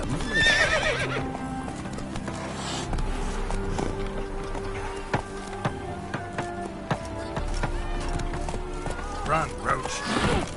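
Roach the horse gallops through The Witcher video game, with rapid rhythmic hoofbeats, a whinny near the start and a voice speaking briefly over the steady clatter.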